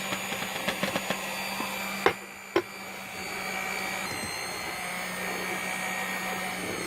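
An electric mixer blends flour into licorice dough with a steady motor whir; a few light scraping clatters come first, then two sharp knocks, and a continuous moderate hum fills the rest.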